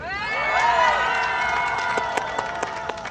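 A rally crowd at a protest demanding an investigation into election commission hiring cheers with rising shouts and whoops over scattered clapping, voices swelling early and then thinning into sharp individual claps.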